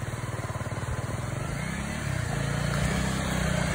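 A small motor engine revs steadily and close by, a low throbbing drone that grows louder and fuller partway through as it is pushed harder.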